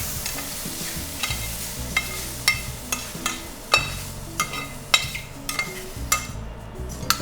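Wild mushrooms sizzling in a pan while being stirred, with regular scraping clinks of a utensil against the pan over a low constant fry, close and clear with no talk.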